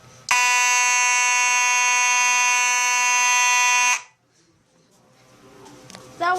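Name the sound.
fire alarm being tested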